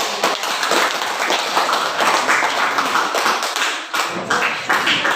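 Classroom applause after a student presentation during teaching practice at a university in Gorontalo: a dense, lively burst of many hands clapping, loud and close, with some taps and brief dips in intensity.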